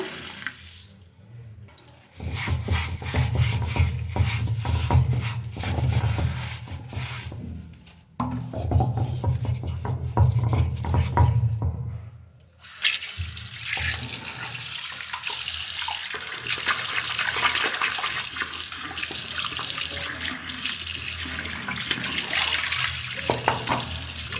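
Tap water running steadily into a vessel being washed during a home puja preparation, loud and close, with brief pauses in the flow and sloshing as the vessel is rinsed.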